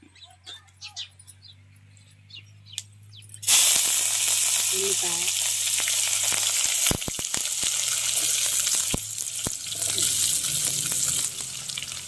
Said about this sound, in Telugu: బండ పువ్వు యాలకులు లవంగాలు మాడిపోతున్నాయి